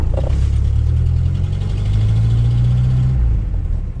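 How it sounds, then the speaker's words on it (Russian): An old Mercedes car engine runs steadily at close range, a low, rough rumble that holds constant throughout with a slight rise in pitch near the middle, carrying passengers on a drive through Egypt's Siwa oasis. "На старом Мерседесе едем. Послушайте вообще, как он звучит."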